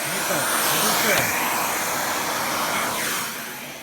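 A household vacuum cleaner runs loudly as it tries to pick up a book, making a constant whooshing roar that eases slightly toward the end.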